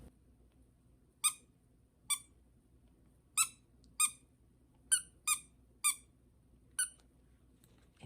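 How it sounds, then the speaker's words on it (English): A small squeaky toy squeaks eight times in irregular, spaced-out single chirps, each sharp and high, against a quiet, nearly silent room. "his special little trick is he squeaks"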